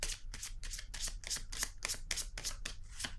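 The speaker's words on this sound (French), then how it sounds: "Je vais déposer une carte pour cette zone." Tarot cards are handled and laid down in a rapid series of soft, papery flicks and slaps, close to the mic. The sound is quiet and rhythmic, like cards being shuffled, with no speech.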